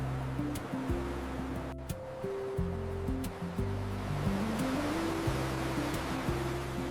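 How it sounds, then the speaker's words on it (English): Calm ocean waves at a beach make a steady, even wash of surf that runs throughout, with a gentle melodic music track playing over it. "The ocean is very calm and peaceful today."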